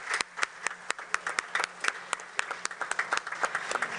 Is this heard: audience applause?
yes